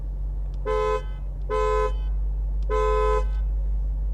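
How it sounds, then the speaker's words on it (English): A 2020 BMW M8 Competition's horn honks three times in short, even blasts over a low steady engine hum, close and clear. "here's how the horn sounds on the 2020 BMW M8 Competition."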